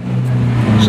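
A buddy's Lamborghini SV sports car engine rumbles loud and close in a short, steady burst of low revving with no talk over it.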